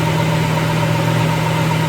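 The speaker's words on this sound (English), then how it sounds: "As soon as that fan stops, I'll go turn the car off." A car engine idles steadily after a 245 head gasket repair, with its cooling fan running, giving a constant loud hum and whir without pauses or talking.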